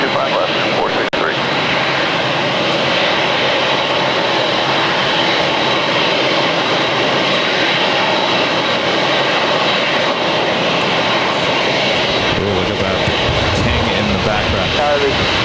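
A jet airliner roars loudly and continuously as it lands on runway 25 left at LAX, while air traffic control radio chatter runs over the engine noise.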